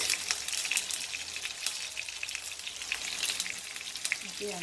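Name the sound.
tofu frying in hot cooking oil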